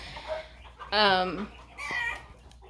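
Older hens cluck nearby in short bursts, one loud drawn-out call standing out, with a quiet voice between them.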